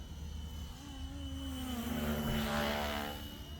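A FlishRC L7 radio-controlled model aircraft in flight gives off a steady mechanical whine that rises and swells as it passes closer, then eases off again, with no talking over it.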